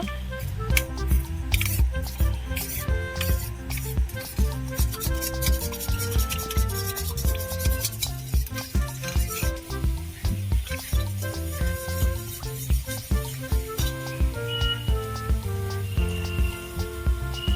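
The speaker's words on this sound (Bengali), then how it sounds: "আমি এখানে বাটিতে জল নিয়েছি এক চামচ কর্নফ্লাওয়ার দিয়ে দিলাম গুলে নেব" Cornflour is mixed into water in a bowl with a spoon, making steady, rhythmic scraping and swishing strokes that continue close up for the whole stretch, with no talking.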